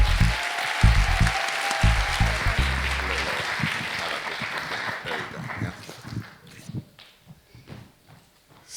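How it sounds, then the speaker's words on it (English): Loud audience applause for a performer at a storytelling show, a dense wash of clapping with a few heavy thumps early on, gradually thinning and fading out by the end. "Ladies and gentlemen, a big round of applause."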